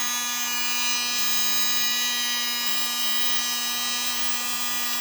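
A small USB mini desk vacuum with its nozzle attached runs steadily, a constant high-pitched motor whine with a strong hum, close and unbroken throughout.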